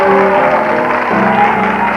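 A studio audience at the final episode of a Spanish-language variety show applauds in a dense, continuous wash of clapping, loud and sustained, with a faint tonal hum underneath.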